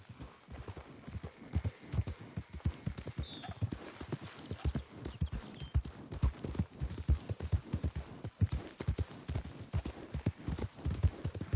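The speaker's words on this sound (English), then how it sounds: "Oh god, no, the horse is running away." Horse hooves galloping away in Red Dead Redemption 2, a steady rapid clip-clop rhythm of dull thuds continuing throughout, moderately close, with faint background game ambience and no talk.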